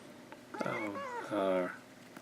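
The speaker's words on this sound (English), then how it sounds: "Here's a cat." A cat meows twice close by, two drawn-out, tonal cries separated by a short pause in an otherwise quiet room.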